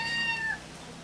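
Cat meowing near a house in the Philippines, a single close, clear meow with a rising then falling pitch, over quiet outdoor background.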